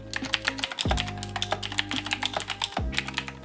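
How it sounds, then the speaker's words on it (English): Rapid, crisp clicking of a mechanical keyboard with Razer green switches being typed on, steady bursts of sharp clacks with no voices. "this keyboard has Razer green switches which give it that clicky sound"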